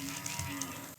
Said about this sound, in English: an angry sounding cow. Blimey, he must have some indigestion.